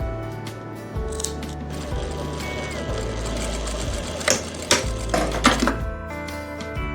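Electric sewing machine stitching a seam on a sharara suit, running in steady rhythmic bursts with short pauses between runs, close and fairly quiet.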